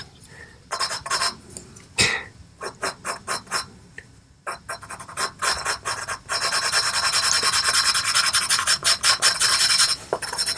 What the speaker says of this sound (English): Rub it in.